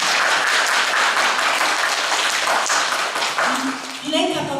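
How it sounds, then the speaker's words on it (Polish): An audience at a children's contest applauds in a dense, loud wash of many hands clapping, sustained for several seconds before fading as a voice begins speaking over the tail end. "proszę o brawa"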